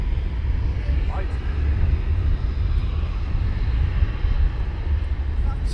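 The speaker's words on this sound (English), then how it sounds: "So he'll be taxiing down to runway 25." A military aircraft taxis toward runway 25 on the south side of RAF Coningsby, making a continuous low engine roar at a steady distance while people talk nearby.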